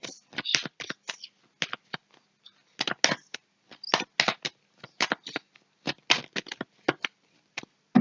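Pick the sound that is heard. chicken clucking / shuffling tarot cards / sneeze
shuffling tarot cards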